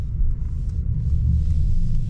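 A car engine rumbles steadily while driving at night through Los Angeles near Santa Monica, a continuous low, close drone with no voices.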